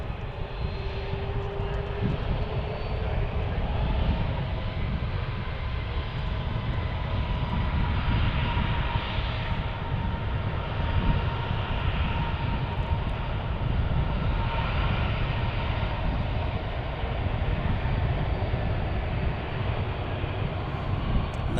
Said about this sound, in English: Good old smooth landing.